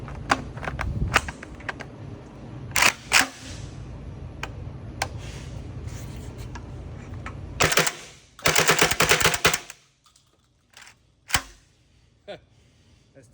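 An M12AK rifle with a modified Franklin Armor binary trigger fires a ten-round magazine at a gun shop, sharp loud cracks in quick pairs and short bursts, with gaps between, ending in a few scattered clicks.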